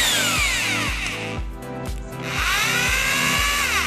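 A Bosch GBH 220 22 mm rotary hammer drills into concrete with a loud, continuous hammering rattle and a high whine, easing briefly midway before resuming at full intensity, with no voices over it.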